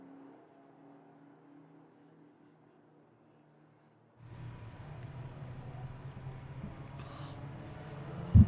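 Justin Miller's time attack race car running on a circuit at a festival, heard at a distance: a faint engine drone that swells suddenly midway into a steady, louder roar, with a sharp thump at the very end.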